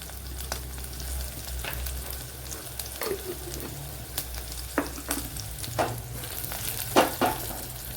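Fenugreek seeds sizzle in hot oil with a steady low crackle, while a utensil stirs and taps the pan in scattered clinks and scrapes, close and moderately quiet, with no talk.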